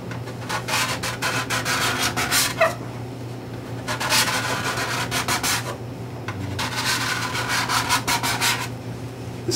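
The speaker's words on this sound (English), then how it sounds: "So I could see that the scraper is starting to hit here, and then I kind of work my way out towards the end" A cabinet scraper drawn along the wooden sides of a handmade guitar, three bursts of steady scraping separated by short pauses, close and fairly loud over a constant low hum.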